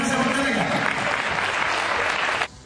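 Applause from a crowd at a running race award ceremony, a loud, dense burst of clapping that stops abruptly near the end.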